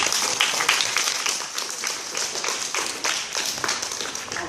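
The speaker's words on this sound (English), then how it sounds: "Does he deserve a round of applause?" A classroom of students applauds for several seconds, a dense wash of overlapping claps at steady moderate loudness with faint voices mixed in.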